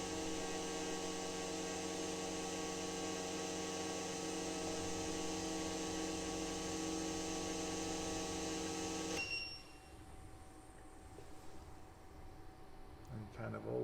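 A Carbon Zapp GDI carbon cleaning machine gives a steady electrical hum with a tonal drone, then cuts off. Quieter room sound and faint voices follow.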